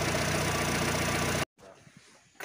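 A Proton Exora engine idles while warming its oil, a steady mid-pitched hum with light vibration that cuts off abruptly, leaving quiet background noise.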